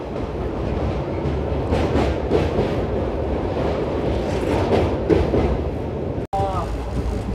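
A Tirupati–Secunderabad Vande Bharat Express train passes alongside, its steady loud rumble and rushing roar filling the whole stretch, with a short drop near the end and a brief metallic squeal afterward.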